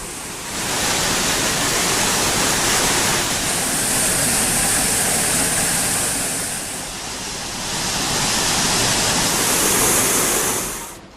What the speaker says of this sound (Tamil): ஒகேனக்கல் மெயினருவி, ஐந்தருவி உள்ளிட்ட பகுதிகளில் தண்ணீர் ஆர்ப்பரித்து கொட்டுகிறது